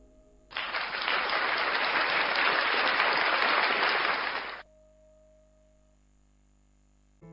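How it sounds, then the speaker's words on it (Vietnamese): A crowd applauds in a narrated animated retelling of the Buddha's life, a sudden dense burst of clapping that holds evenly for about four seconds and then cuts off to a quiet hum. "Mọi người vỗ tay hoan hô ý kiến này."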